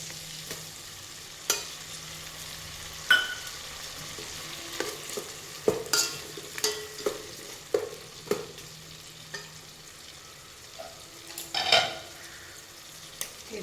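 Ground paste of garlic, small shallots and tomato frying in a pan for a dried-fish curry, with a soft steady sizzle broken by a dozen sharp spoon scrapes and taps against the pan, close and without voices.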